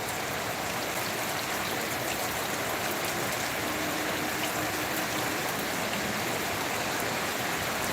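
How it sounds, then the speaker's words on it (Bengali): Heavy rain pours down with water running nearby, a loud, dense, unbroken hiss and rush that stays constant throughout with no voices. "মানে কতটা জোরে জল হচ্ছে বুঝতে পারছো।"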